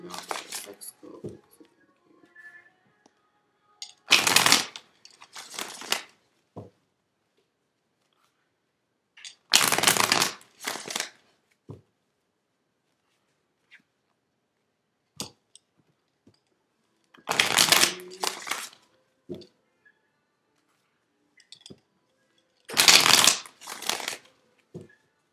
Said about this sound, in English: this is the last shuffle